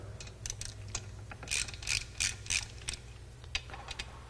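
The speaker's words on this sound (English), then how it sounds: "The next step I'm going to take is go ahead and remove the valve cover." Ratchet loosening valve cover bolts on a Jiffy PRO4 engine, giving quiet, close clicking in short irregular runs of pawl ticks with brief pauses between strokes, alone without talk.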